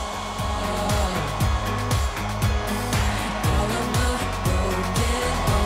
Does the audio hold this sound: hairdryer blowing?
yes